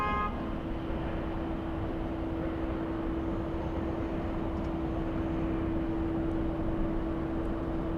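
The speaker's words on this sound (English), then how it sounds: "we have the Singapore 777 flying in from Narita, flight 12" A Singapore Airlines Boeing 777 arriving at LAX from Narita makes a steady, moderately distant jet roar with a sustained engine whine running through it, constant for the whole stretch with no talking.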